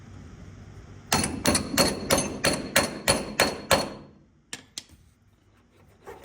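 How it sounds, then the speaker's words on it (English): Sharp metallic hammer blows strike a truck cab mount bushing on a 1961 GMC, about ten rapid evenly spaced hits, then a pause and two or three lighter taps, loud and close. "It's like we're hitting the bushing."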